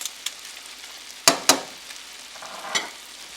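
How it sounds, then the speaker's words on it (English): Snails frying with garlic and parsley in a pan sizzle softly under a few sharp, close clacks of a utensil against the pan as they are stirred. "Add the pre-prepared snails to the pan, mix them in with the sauce, and add the garlic and most of the parsley."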